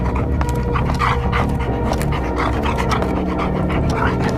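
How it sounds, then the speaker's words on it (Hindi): A dog at home pants and whimpers loudly and close by, with rapid, continuous breathy bursts and a few small vocal whines but no distinct barks. "हमारे घर में एक कुत्ता था जो मुझे देखकर भौंकने लग गया"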